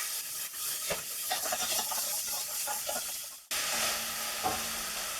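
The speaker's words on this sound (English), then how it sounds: "we're just going to cook those down until they get slightly crispy" Lardons fry in a pan for a slow-cooked spaghetti Bolognese sauce, a continuous close hiss and sizzle with a few stirring knocks and a brief break before the frying surges again.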